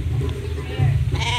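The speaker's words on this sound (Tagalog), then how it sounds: "Mga tupa." Sheep bleat repeatedly at a safari adventure park, wavering calls close and fairly loud, with people talking faintly in the background.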